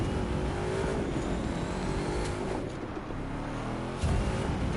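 A 2011 Ford Mustang GT muscle car races on a dirt trail in The Crew 2, its engine roaring steadily with gritty rumble, easing briefly then surging back louder near the end.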